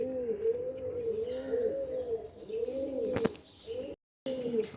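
Pigeons in a healthy loft coo in a steady, rolling series of soft low calls close by, with a brief sharp sound near the end and a short gap of silence.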